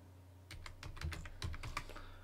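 A short, quiet burst of typing on a computer keyboard, several soft keystrokes clustered over about a second and a half above a faint low hum.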